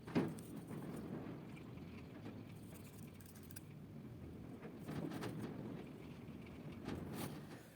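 Strong wind buffets and roars steadily for several seconds, with gusts rising and falling and occasional rattling knocks nearby.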